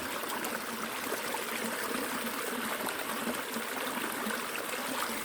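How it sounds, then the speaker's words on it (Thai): A forest waterfall pours continuously with a broad, dense splashing roar, close and even throughout with no voices. "เห็นไหมครับพี่น้อง น้ำตกครับน้ำตก"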